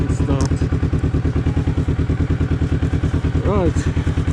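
A Kawasaki Vulcan S motorcycle engine starts and idles close by, a steady, loud, even pulsing beat with a brief clattery rev partway through.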